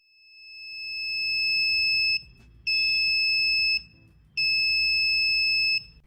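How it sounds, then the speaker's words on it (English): An Arduino proximity-sensor alarm wired on a breadboard gives three long, shrill electronic tones. The first swells up gradually, and short silent gaps separate the tones. "When an object comes close to the sensor, the system detects it and sounds the alarm."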